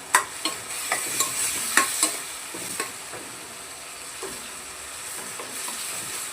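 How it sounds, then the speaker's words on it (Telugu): Onions with turmeric, ginger and garlic stirred in a pan, a steady close sizzle broken by sharp spoon scrapes and taps, loud at first and fading to a softer frying hiss. "ఇప్పుడు మంచిగా కలుపుకోవాలి"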